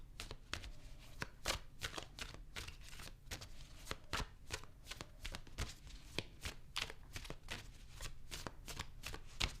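Tarot cards being shuffled by hand, a steady run of crisp riffling slaps and flutters repeated through the whole stretch, close and fairly quiet with no talking.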